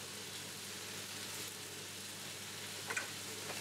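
Chili sautéing in a pan for beef curry, a quiet, even frying sizzle heard close and steady, with a couple of faint clinks near the end and no talking.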